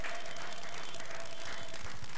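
A church congregation claps and applauds for the Lord, a soft steady patter of many hands heard from some distance, moderately faint and continuous, with a low hum underneath.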